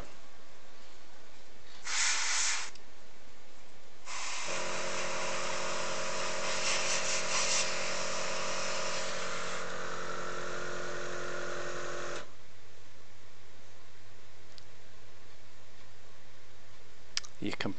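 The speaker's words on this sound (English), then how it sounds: "Your compressor blew up." An airbrush compressor runs steadily for about eight seconds with a humming, hissing drone, starting and stopping abruptly, and a short burst of airbrush hiss comes just before it.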